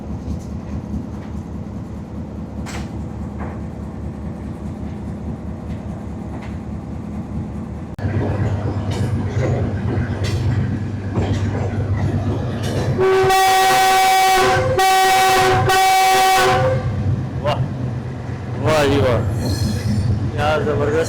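A train on Pakistan's ML-2 line rumbles slowly along the rails with a steady low drone, then a loud horn blasts several times before the rolling resumes.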